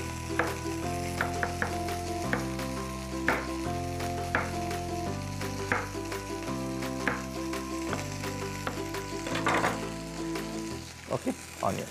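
Garlic and thick slices of onion frying in a pan, a soft sizzle with scattered pops and stirring clicks, partly covered by steady background music.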